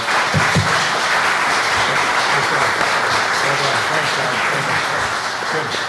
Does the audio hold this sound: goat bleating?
no